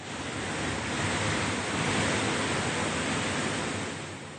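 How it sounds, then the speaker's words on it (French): Hurricane Melissa winds in Jamaica, gusting up to 300 km/h: a dense, continuous roar of wind noise swelling and easing slightly, loud and close with no voices over it. "Il atteste de la violence des vents soufflant jusqu'à 300 km/h"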